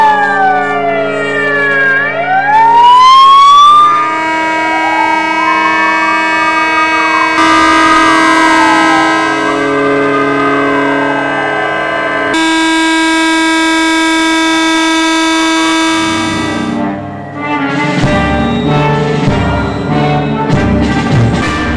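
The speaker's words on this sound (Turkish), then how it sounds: "limandaki gemiler, kamuya ait araçlar sirenlerini çalarken saygı duruşunda bulunuldu" Loud, sustained sirens from harbour ships and public vehicles in Ereğli, Turkey sound during a ceremonial moment of silence. Overlapping rising and falling wails and steady horn-like blasts layer over one another without any talking.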